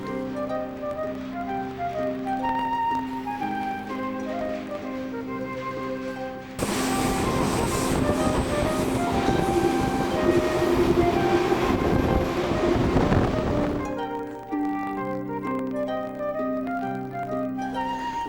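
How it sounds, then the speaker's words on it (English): Music plays softly, then a car-carrying train roars loudly through the Bernese Oberland mountains of Switzerland for several seconds with a heavy, rushing rumble before the music returns alone. "boarded the car train which took us through the mountains of the Bernese Oberland to Kopenstein"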